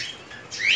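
A silver diamond dove gives a brief, faint high chirping call, rising toward the end of a short moment, close by and alone.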